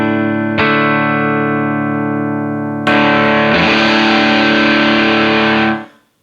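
Electric guitar played through a 1980s ProCo Rat II distortion pedal with the filter off, bright and treble-heavy: one sustained distorted chord, a second struck chord ringing loud and alone, then an abrupt cutoff.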